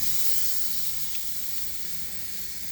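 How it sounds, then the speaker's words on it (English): Steady, dense hiss of steak sizzling on a hot barbecue grill, continuous and fairly loud throughout with no voices. "Listen to the sizzle."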